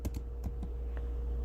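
Someone types a web address on a computer keyboard with a few quick, close, soft key clicks that trail off into quiet room hum.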